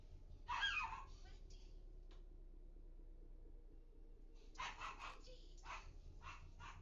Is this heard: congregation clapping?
no